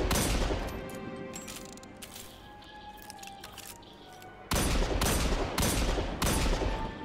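Rapid bursts of gunfire from a Destiny 2 weapon, dense repeated shots that fade into a quieter stretch before loud rhythmic volleys return near the end, with no talk.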